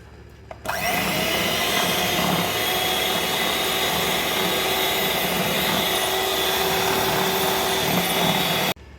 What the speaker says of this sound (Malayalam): ഇനി നമുക്ക് പഞ്ചസാര ഒന്ന് പൊടിച്ചിട്ട് വരാമേ.